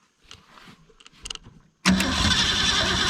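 A 1964 Ford Fairlane 500 hardtop that has run out of gas cranks hard after a few faint clicks and rattles, its starter grinding loudly and steadily.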